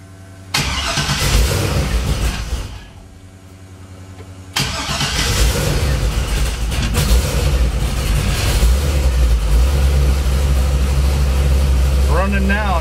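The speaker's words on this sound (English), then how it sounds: "Running now, I never touched the gas." A 1957 Chevy engine cranking, catching briefly and cutting out, then cranking again and firing into a loud, steady, rumbling idle close by, with someone talking over it.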